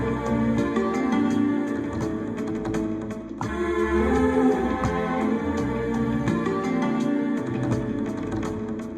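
A Bollywood record sample, pitched down three or four semitones and played back on an MPC One, sounds as a dense, murky blend of slowed instruments and melody at a steady moderate volume, with no one speaking over it.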